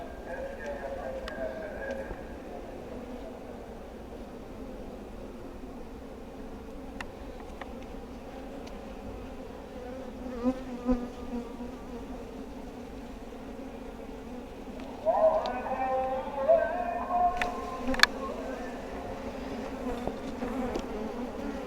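Honeybees buzz steadily around an open wooden hive near a swarming state, a low continuous hum with brief louder bursts later on, while a person talks over it.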